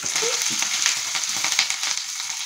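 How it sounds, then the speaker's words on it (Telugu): Tempering spices crackle in hot oil for tamarind pulihora, a steady close-up sizzle with bursts of popping and spitting throughout. "ఇదిగోండి ఇవి వేగుతున్నాయి, వేగిపోవచ్చినాయి"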